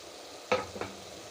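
Ginger garlic paste hits hot oil over softened onions in a pan, a short burst of sizzling followed by a second, smaller spatter and a stir, then faint frying beneath.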